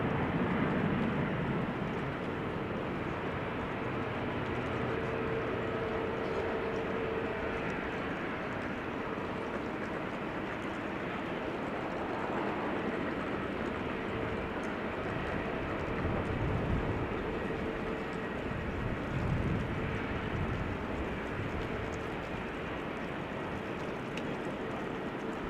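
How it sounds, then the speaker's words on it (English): At Amsterdam Schiphol, a three-year-old Boeing 737 Max 8 taxis with a faint, steady engine hum and whine, heard at a distance for the whole stretch with no talking. "It is Max 8 737, 3 years old already"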